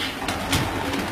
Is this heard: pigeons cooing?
yes